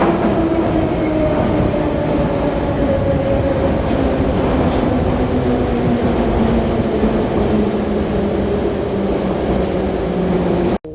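A St. Petersburg subway train approaches a metro station, a loud, steady roar with a gradually falling whine and faint rail clatter filling the whole stretch before cutting off abruptly.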